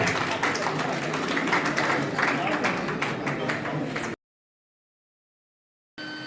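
Audience clapping at a ceremony honouring teachers, sustained loud applause for about four seconds, then a sudden cut to silence before the applause briefly resumes.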